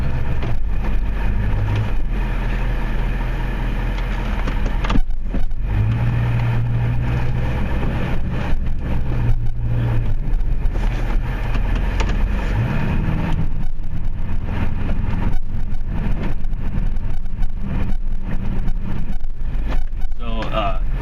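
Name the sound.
Duramax pickup truck engine while plowing snow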